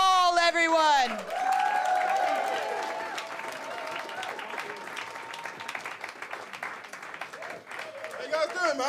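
A live comedy show audience breaks into sustained applause and cheering for the next comedian, loud and dense at first, then carrying on steadily with a few whoops, while an amplified host's voice speaks over the start and end.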